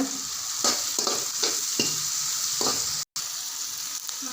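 Onions sauté in a pan with a pinch of salt for egg noodle masala, giving a continuous bright sizzle broken by repeated scraping strokes of a spatula stirring, with a brief dropout near the end.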